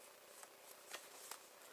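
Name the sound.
tarot cards being handled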